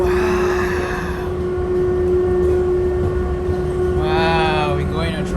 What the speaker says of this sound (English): Wow, we're going on a train.